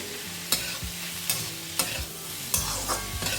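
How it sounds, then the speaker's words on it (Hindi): Onions and slit green chillies frying over medium flame, a steady sizzle broken by regular spoon scrapes and knocks against the pan about every second. "प्याज को मैंने चलाते हुए 2 से 3 मिनट तक फ्राई कर लिया है।"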